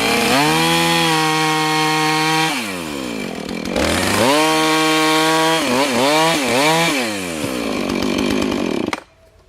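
A chainsaw cuts a fallen tree limb into firewood outdoors, revving loud and close in repeated bursts that dip and climb as the chain bites through the wood, then cutting off at the end.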